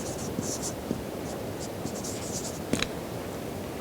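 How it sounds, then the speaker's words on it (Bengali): Pen or marker writing two names on a board during a grammar lesson, with faint scratchy strokes and a few light taps in a quiet room, heard alone without talk. "ধরো আমরা লিখলাম দুজনের নাম"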